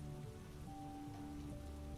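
Rain falls steadily onto surfaces outside at night, a soft, even patter that stays constant throughout with no voices over it.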